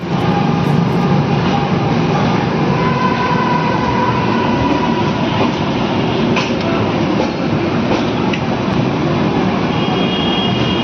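Lucknow Chhapra Express (15054) rolling out of Lucknow Junction, a steady loud rumble of the moving train with faint clickety-clack of wheels and occasional squeaks, heard continuously from on board with no talking.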